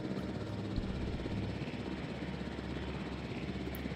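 A helicopter in the dinosaur park game Jurassic World Evolution flies with a steady, low, chopping engine drone that holds at an even, moderate level with no break.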